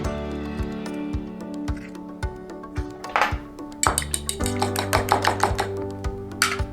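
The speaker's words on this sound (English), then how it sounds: "First, I'm gonna beat the eggs." A fork beats eggs in a bowl while an Indomie stir-fry noodle soup is prepared, making a steady rhythm of close, light clinks and taps against the bowl, with no voices over it.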